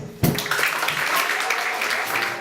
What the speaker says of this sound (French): Un applaudissement, mesdames et messieurs,